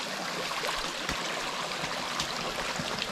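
A small stream flows beside a freshly dug well in the countryside, a steady close rush of running water with a few faint gurgles throughout.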